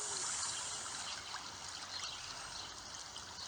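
Water flows and trickles steadily, a soft, even hiss of moving water heard faintly and continuously with no other sounds.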